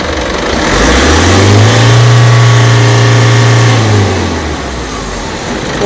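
A diesel car engine with an EGR fault traced to the mass airflow sensor revs up loudly from idle, holds a steady high drone for a few seconds, then drops back toward idle.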